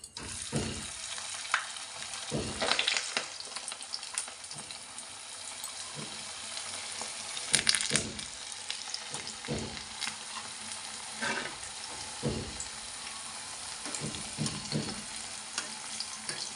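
Samosas frying in hot oil, with a steady close sizzle running throughout and occasional stirring or turning noises rising above it, and no one speaking.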